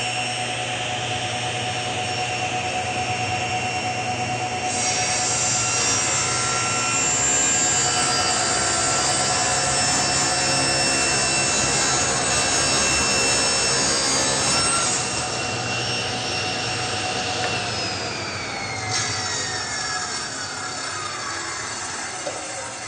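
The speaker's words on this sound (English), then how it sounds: "So that was cutting a two-sided taper." Table saw cutting a two-sided taper on a wooden leg held in a sled, a steady loud whine with a rising cutting tone through the middle and a falling pitch as the blade spins down near the end; no talk.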